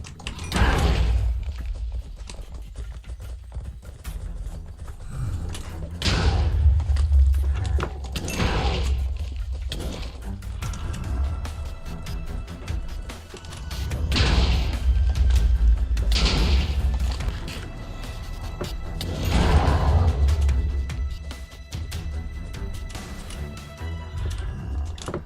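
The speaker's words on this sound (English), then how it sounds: "explosion attack time." Repeated heavy explosions from TNT armor in Minecraft, fired in a test against Ravagers: several deep, booming thuds at intervals of a few seconds, loud and close, with a low rumble continuing between blasts.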